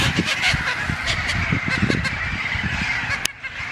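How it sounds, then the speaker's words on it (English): A flock of green parrots squawks loudly and continuously, harsh overlapping calls close by, with no talking. "All the squawking is these birds."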